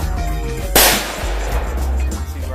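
A single loud gunshot from a .44 Magnum firing a 300-grain hollow point cracks out sharply and close, then decays into a lingering rumble over a low steady hum.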